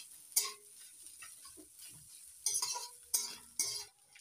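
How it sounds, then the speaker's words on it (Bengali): Potatoes being stirred in a pan with onion, garlic and green chilli, a few scattered scraping strokes of a utensil with faint sizzling between them, close and quiet. "এবার আলুটা একটু নাড়াচাড়া করে নিচ্ছি পেঁয়াজ রসুন"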